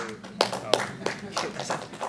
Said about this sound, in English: people clapping, just basic stuff